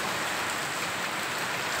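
Light rain patters in a steady, even hiss of drops falling on surfaces outdoors. It is moderately quiet and continuous, and no voices are heard.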